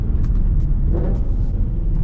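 A car engine rumbles steadily and close through a fourth-gear downshift, a low continuous drone with a brief rise in pitch near the middle of the shift; the car is not running as it should.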